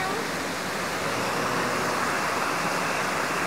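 Water flows out of a cave mouth in a steady, loud, broadband rush, like a small waterfall or fast stream, continuous and close.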